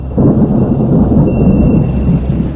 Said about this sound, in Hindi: सावन के दिन थे, बारिश हो रही थी।